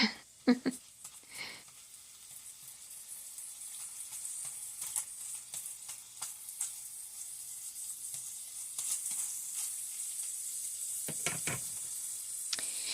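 Ground turkey frying in a pan: a steady, bright sizzle that runs throughout at moderate loudness, with a few utensil scrapes and clicks and a voice talking over it.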